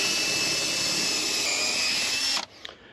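A power drill bores a hole into a brick wall to mount a water hose hanger, running loud and steady for over two seconds before cutting off abruptly, followed by brief faint clatter.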